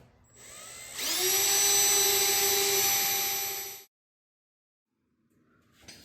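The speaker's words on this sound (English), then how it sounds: "Keep your drill bit from walking like that." Electric drill boring holes in a metal inner fender brace for a Mopar Duster, one steady high-pitched whine running several seconds close up, then cutting off into near silence with a faint restart at the end.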